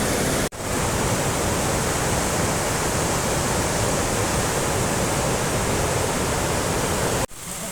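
Steady roar of a swollen, rushing river seen up close, loud and unbroken from start to finish, with a brief dropout near the start and another just before the end.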